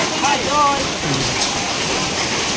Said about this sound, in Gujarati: આવડા આવડા મોટા કરા પડ્યા છે